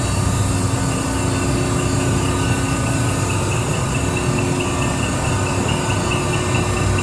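The motor of a Pacific J-ton, 12-foot press brake runs in inch mode, making a loud, constant mechanical hum and drone with steady tonal whine that holds unchanged.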